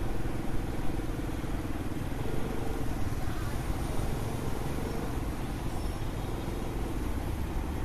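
Motorbikes fill late-night traffic in central Saigon around 22:30 on a jammed street, a dense continuous drone of many scooter engines up close, with faint voices mixed into the steady roar.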